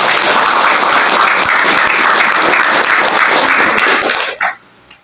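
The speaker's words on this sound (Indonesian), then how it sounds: "Tepuk tangan dulu." Audience applause at an Independence Day religious talk, a dense steady burst of many hands clapping that stops abruptly near the end, followed by near silence.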